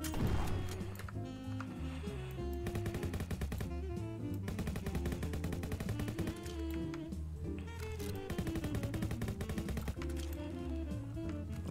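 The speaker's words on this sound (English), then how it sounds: "The frickin' guns." Rapid automatic gunfire in a Roblox game crackles in long dense bursts of sharp repeated shots, loud and nearly continuous, broken by short pauses.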